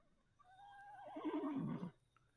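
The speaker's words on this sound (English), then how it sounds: "I hear the horses going every once in a while." A horse whinnies once in the background of a tabletop game scene, a faint, wavering neigh lasting about a second and a half against quiet surroundings.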